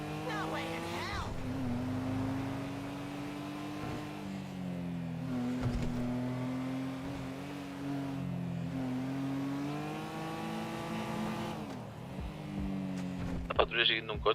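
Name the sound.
police patrol car chasing a car in a roleplay video game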